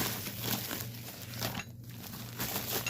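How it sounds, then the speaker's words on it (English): Close, continuous crinkling of a plastic bag as a cross stitch kit is pulled out of it, rustling steadily with a brief pause partway through. "Let me pull this out of the bag and we'll find out who it is from."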